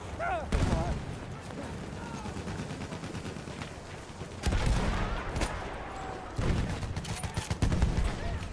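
Gunfire in a Battlefield video game match, rapid bursts of automatic fire and single shots in repeated waves, loud and close, with voices talking over the shooting.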